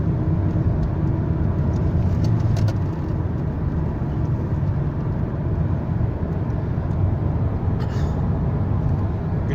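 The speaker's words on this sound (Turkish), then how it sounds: "Şimdi tekrar gaza basacağım. Bakın gaza basarken ayrıyetten debriyaja da basacağım." Car engine held under steady throttle while the driver works the clutch pedal, a continuous loud low drone recorded inside the vehicle with no clear rise or fall across the stretch.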